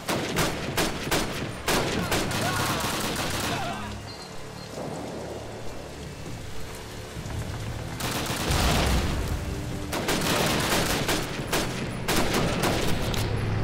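Gunfire in the WWII shooter Call of Duty United Offensive, fought around a castle: rapid, dense volleys of close shots crackling in long bursts, a brief lull in the middle, then heavy firing again.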